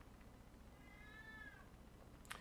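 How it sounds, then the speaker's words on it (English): A single drawn-out cat meow rises and falls in the middle, fairly faint and heard from outdoors over a low steady background hum, with no talking. "If you hear my cat outside, she's meowing for attention and food."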